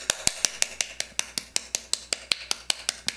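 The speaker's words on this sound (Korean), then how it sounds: "운전하다가 박수 칠 때요 좀 인심 써서 10초 박수합시다" Steady rhythmic clapping from a church congregation, about five claps per second, crisp and evenly spaced throughout with no talking.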